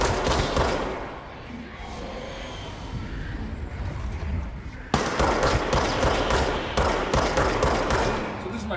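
Gunfire from snipers in the video game Control rings out as sharp, loud shots in quick succession, near and dense, with a quieter rumbling gap in the middle.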